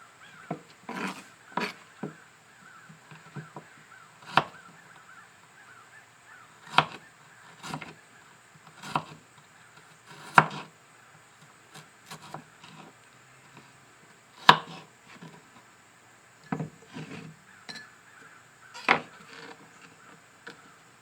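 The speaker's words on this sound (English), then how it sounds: "I'm just going to slice it into strips to put into the jar" A knife cuts a large garlic bulb into strips on a board, sounding as a series of crisp, irregularly spaced chops that are close and fairly quiet, with near silence between strokes.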